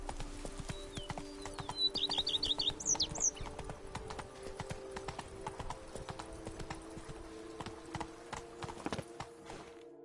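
A horse in The Witcher 3 gallops with rapid, steady clip-clopping hooves, close and clear, while a low drone plays underneath and a brief whinny-like call is heard early on.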